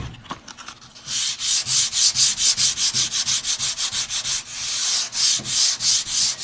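Rhythmic back-and-forth sanding across an oil-finished wooden tabletop, steady repeated strokes close by and fairly loud, following a few soft knocks at the start.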